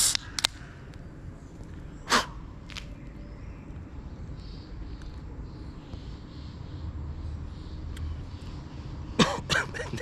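A person with a light cough coughs in a few short, sharp bursts: a couple near the start, one in the middle, and a cluster near the end, over quiet background noise.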